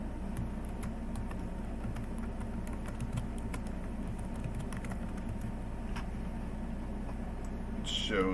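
Computer keyboard typing in clicks and taps while entering notes and license details in CAD software, steady and soft under a low background hum.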